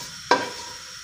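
Whole spices with black peppercorns and curry leaves drop into hot oil for a pulao, setting off a sudden loud sizzle that flares and then eases into a steady crackle, with no talk.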